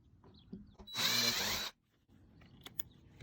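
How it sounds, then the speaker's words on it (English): A power drill with a 1/8 inch bit whirs at high speed for under a second, drilling a pilot hole, close up, bracketed by quiet handling noises and small clicks. "So I'm drilling one there."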